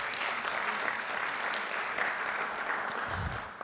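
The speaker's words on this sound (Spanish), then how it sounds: "Por favor, un fuerte aplauso para el doctor." An audience applauds Dr. Martín Rodrigo Esteves as he is introduced at a talk on orthopedics, a brief burst of dense, even clapping at moderate volume.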